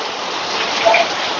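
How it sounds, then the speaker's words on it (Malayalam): Heavy evening rain pours down on a street lined with handloom shops, a dense, constant close hiss with no voices. "മഴ, സൂപ്പർ മഴ."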